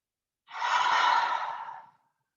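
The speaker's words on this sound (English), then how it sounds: "So perhaps take some exhales through the mouth." A slow breathy exhale through the mouth during a yoga session, one long airy sigh of about a second and a half, close and fairly soft, with no talking over it.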